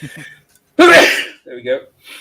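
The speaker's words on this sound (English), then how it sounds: "I think I'm going to sneeze." A single sharp, loud sneeze from a person with a winter cold bursts out between brief bits of talk.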